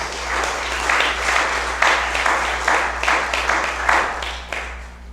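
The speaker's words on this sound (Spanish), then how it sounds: "Denle un aplauso a Cristo mejor." A church congregation claps for Christ in waves of rhythmic, pulsing applause, fairly loud and close, over a steady low hum, with no one speaking.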